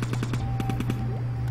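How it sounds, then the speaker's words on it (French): A video-game cannon fires in a rapid run of about ten sharp shots, loud and close over a steady electronic hum, with no talking. "ce canon-là, à part le faire tirer vers le bas"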